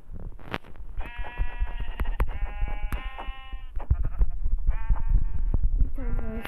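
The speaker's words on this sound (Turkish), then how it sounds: "Siyah koyun, siyah koyun, siyah koyun." Several sheep bleats in the Minecraft video game, wavering and harmonic, repeating at irregular intervals across a busy game background without talk.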